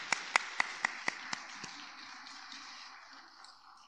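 Church congregation applauding graduated students at a Sunday service, a few sharp distinct claps at first that quickly thin out and fade into quiet.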